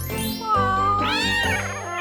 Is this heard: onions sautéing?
no